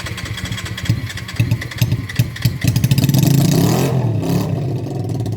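A motorcycle engine sputters and catches after several uneven firing bursts, then settles into a steady, loud revving roar close by.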